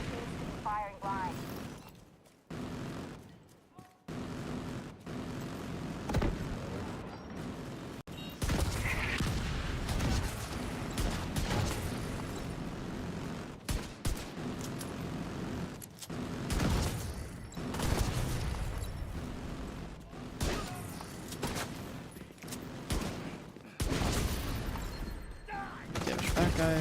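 An autocannon firing blind in the video game The Division 2: repeated heavy booming volleys and rattling bursts over a dense battle din, some passages louder and some briefly quieter, with voices heard now and then.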